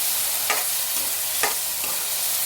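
Tomatoes and sprouted field beans frying in a pan as they are stirred, a steady close sizzle broken by two sharp scraping stirs, with no one talking.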